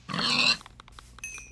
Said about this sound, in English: Like, we can kill this pig.